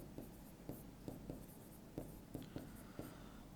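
Chalk or marker writing on a board during a horticulture class, a series of quiet scratchy taps and strokes at irregular intervals against a faint room hiss, with no talking.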